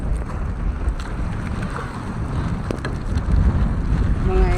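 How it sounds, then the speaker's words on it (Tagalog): Rough sea water washes and slaps around a small boat while wind buffets the microphone with a heavy low rumble that grows louder toward the end. "Grabe naman biglang lakas ang alon"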